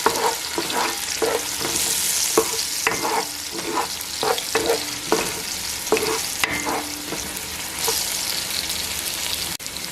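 Garlic fries in a pan for Puerto Rican meatballs, a constant close sizzle broken by rhythmic scraping strokes of a spoon, fairly loud throughout.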